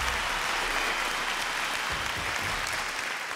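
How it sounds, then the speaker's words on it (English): A large audience at the Zee Cine Awards 2016 gives choreographer Ganesh Acharya a steady, dense round of applause, heard from a distance with no talk over it. "Ganesh Acharya, huge round of applause, ladies and gentlemen."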